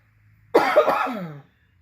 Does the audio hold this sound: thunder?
no